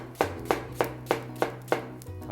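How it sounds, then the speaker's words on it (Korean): A knife chops peeled apple quarters on a cutting board while making compote, giving about six sharp, evenly spaced close-up strikes with no talking. "이거는 이렇게 4분의 1 껍질을 제거하고 4분의 1을 썬 다음에 이렇게"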